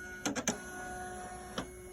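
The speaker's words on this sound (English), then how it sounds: "it's going to make the little embroidery unit, which is this thing over here. That's the noise you heard." A computerized embroidery machine's embroidery unit moves itself into position after power-up, giving three quick whirring motor bursts in a row and one more shortly after, close and fairly quiet over a steady electronic hum.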